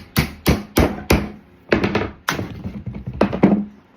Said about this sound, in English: I'm going to take a chisel and kind of notch all these out. Just kind of bust all those off